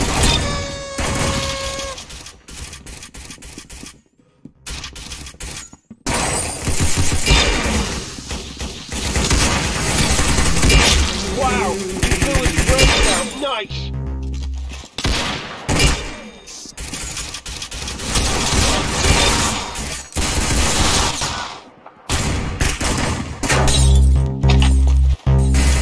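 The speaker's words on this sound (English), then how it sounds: "Shooting." Rapid gunfire from the Roblox shooter Arsenal, loud bursts and shattering cracks packed densely across the whole stretch with only brief gaps, mixed with game music and effects.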